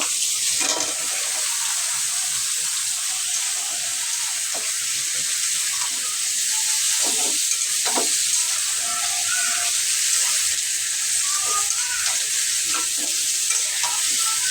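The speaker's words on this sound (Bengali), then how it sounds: "এখন আমি এই যে এখানে কেটে রাখা আলু আর পটল দিয়ে দিব" Cut potatoes and pointed gourd fry in a spiced masala, giving a loud, continuous close-up sizzle with scattered stirring scrapes and clinks from the pan.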